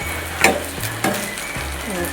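Food sizzles and fries steadily in a hot pan, loud and close, with a few clinks and scrapes of stirring on top of the constant hiss.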